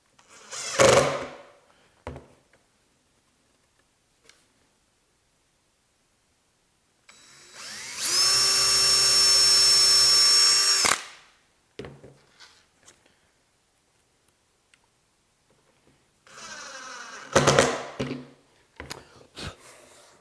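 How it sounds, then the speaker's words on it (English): Screws are driven into walnut with a drill as shop furniture is assembled: a sustained whirring burst of about three seconds in the middle, framed by scattered clicks, knocks and handling noises with quiet gaps between. "I'm just going to run a screw into it to hold it in place."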